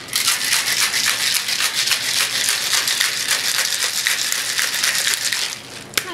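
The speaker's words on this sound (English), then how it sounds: "And then you give it a good old shake." Ice rattling hard and fast inside a cocktail shaker as a gin cocktail with agave is shaken, a loud, continuous, even churning rhythm that eases off near the end.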